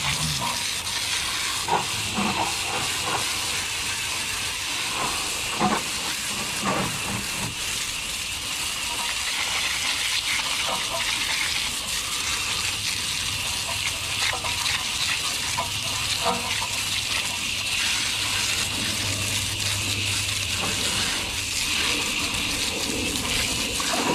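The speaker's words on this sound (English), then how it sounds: "Now I'm gonna get the hose for the second wheel." Garden hose spraying water onto the wheel of a 2023 Acura Integra during a car wash, a steady hissing gush with fluctuating splashes, moderately loud and close, with no talk.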